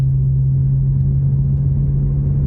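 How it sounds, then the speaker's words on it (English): A slow-moving dump truck and the crawling road traffic behind it give a steady, heavy low rumble with a constant engine drone, close and continuous, with no voices. "I don't know why a dump truck is moving slow,"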